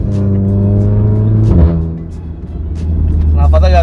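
Audi S3 with a Valvetronic exhaust, about 400 hp, accelerating with a loud, steady engine drone and harmonic rise, a brief surge midway and rising revs near the end, heard from inside the car under talk.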